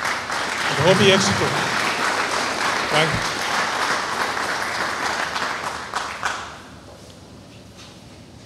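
An audience applauds at a certificate ceremony for a social training program, with a full, even roar of clapping that holds for several seconds and then fades away. A voice speaks over it briefly.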